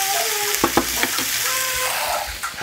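Pepper gets stirred into an asparagus and wine pasta sauce sizzling in a pan, with a steady loud hiss broken by a few soft scraping strokes of the spoon.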